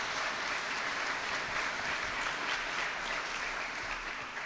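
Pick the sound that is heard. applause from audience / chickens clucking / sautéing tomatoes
applause from audience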